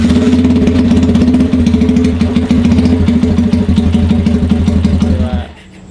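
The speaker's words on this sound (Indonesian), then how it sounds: "gimana suaranya motor custom yang Gua hidupin dulu ya." A custom chopper motorcycle engine idling up close with a rapid, loud, rhythmic chugging that cuts off abruptly near the end.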